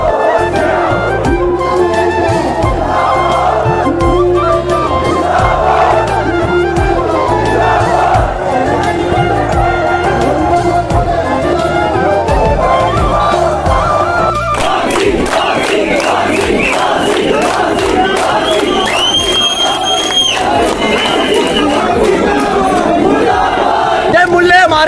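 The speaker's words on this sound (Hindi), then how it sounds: "आज यहाँ पे रैली चलने वाली, देख सकते हो कितना भीड़ में कितना लोग आया हुआ है।" Large crowd at a political rally in India, a dense continuous roar of many voices with chanting and shouts, loud and close throughout, swelling into rhythmic cheering in the second half.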